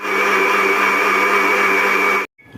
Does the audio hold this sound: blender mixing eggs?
yes